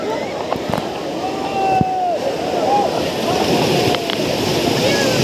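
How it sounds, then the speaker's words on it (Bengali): Sea waves wash in at the beach at Digha, a broad roaring surf with wind buffeting the microphone, while people call out and talk over the water nearby. "দেরি করলে আবারও ঢেউ আসছে।"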